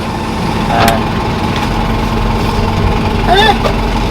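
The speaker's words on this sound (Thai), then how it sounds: "เดี๋ยวพาสับรอบคุณ ให้ฟังเสียงเครื่องหน่อย" FUSO six-wheel dump truck, a 2019 model with a 170-horsepower engine, idling with a steady broadband rumble and brief rises in revs. Speech-like sounds and a few chirps come through near the end.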